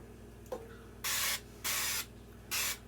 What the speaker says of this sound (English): So we're going to spray the entirety of the pan.